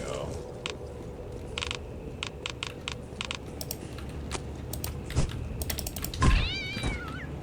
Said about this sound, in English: We hit Gary and a cat spawned